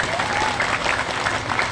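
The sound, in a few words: audience applause during sermon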